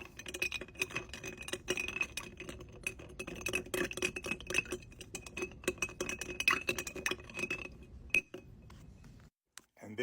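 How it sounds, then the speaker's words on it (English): A Russell's Reserve single barrel cherry old fashioned with spiced cherry bitters and simple syrup is stirred in a glass, a spoon clinking and rattling rapidly and steadily close by before trailing off near the end. "Stir this all up."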